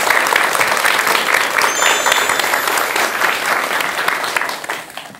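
Steady, dense audience applause at a Korean Buddhist lecture broadcast, a loud sustained wash of many hands clapping close by, tapering off at the very end.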